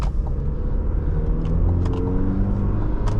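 A 2020 Cadillac CT4-V AWD cruises steadily on the freeway, its engine and road noise forming a continuous low rumble inside the cabin, with no talk.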